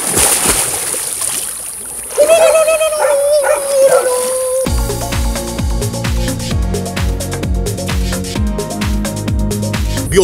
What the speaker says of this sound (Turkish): Köpek de havlama lan köpek.